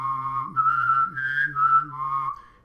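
A man bass-whistling, holding a melody line of sustained whistled notes over a simultaneous low hummed bass tone that shifts pitch, close and clear with no talk.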